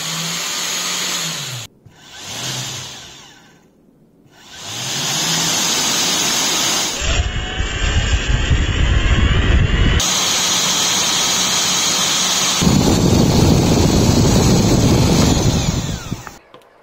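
A vacuum cleaner motor with its impeller spins up several times, starting with short whirring bursts, then running in long loud stretches of whining roar with rising tones and a rumbling low end before cutting off, no voices heard.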